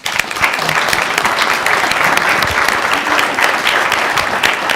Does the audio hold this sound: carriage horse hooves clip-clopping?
no